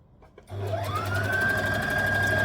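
A domestic sewing machine starts up after a short quiet moment and runs steadily, its motor hum settling into a fast, even stitching whir while sewing a tee shirt seam, close and unaccompanied.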